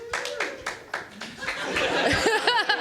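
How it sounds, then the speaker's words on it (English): A small live podcast audience gives a brief round of applause, scattered claps up close at first, then giving way to chuckles, laughter and talking. "round of applause if you've been to a 200"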